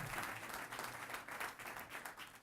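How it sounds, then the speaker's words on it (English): An audience applauds during a mayoral campaign announcement speech in Providence, a soft, distant patter of clapping that rises and dips slightly in intensity. "Let's give them a round of applause."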